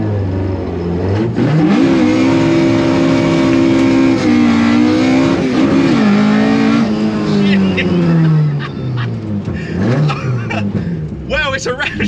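An ST170-powered Mk2 Ford Escort van on throttle bodies revs hard and loud, rising and falling through several pulls with a whining drivetrain. Voices talk over parts of it and the engine dips to quieter spurts toward the end.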